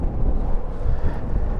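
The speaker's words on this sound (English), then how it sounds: "Very windy, as you can probably hear." Strong wind buffets the microphone at an outdoor campsite, giving a brief burst of low, rumbling gusts with no voices.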